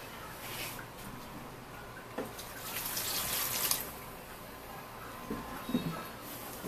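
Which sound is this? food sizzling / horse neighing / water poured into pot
water poured into pot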